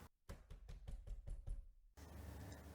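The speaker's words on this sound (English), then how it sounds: "Little Red Riding Hood tapped on the door." Knocking on a door, seven fairly loud, evenly spaced raps in a quick row, then a steady hiss of room noise.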